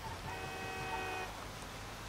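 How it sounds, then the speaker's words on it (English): A car horn honks continuously for about a second in Grand Theft Auto V, a flat, moderately distant tone over low street traffic noise. "Why are you honking at me?"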